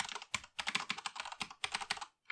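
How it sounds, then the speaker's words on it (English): Fingers type a password on a computer keyboard, with quick bursts of close, crisp key clicks broken by brief pauses, quiet and alone without speech. "And then I'm going to type in my password."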